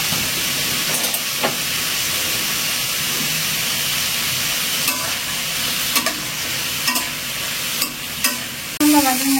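Bitter gourd frying in a pan on the stove with salt, chili and turmeric, a steady close sizzle with occasional stirring scrapes and clinks, ending in a louder burst.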